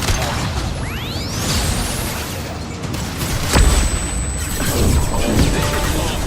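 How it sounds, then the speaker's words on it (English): A flashbang grenade goes off in Mass Effect 2, loud and close, with a rising whoosh, a crashing burst and then a sustained high ringing tone over noisy combat sounds. "Watch out, flashbang!"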